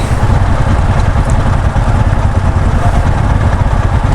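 A motorcycle labours across a narrow small bridge on a hot day, its engine a steady, loud low rumble with a rough clattering texture throughout, heard alone without talk.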